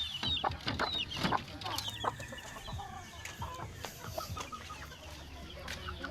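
Chickens and chicks cluck in an outdoor yard, with sharp calls and chirps popping up over a busy, steady farmyard background.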